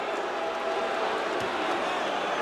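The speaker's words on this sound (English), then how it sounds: "boos him as he comes in because he was quite physical in Game 5" A packed arena crowd at a 1981 Eastern Conference Finals Game 7, 76ers at Celtics, makes a steady, dense roar of disapproval as Steve Mix enters the game, a broad wash of voices with no break.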